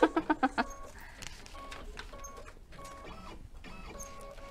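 An embroidery machine stitches out a design, giving a steady, fairly quiet mechanical patter with a few sharper rapid clicks at the start, running alone without talk.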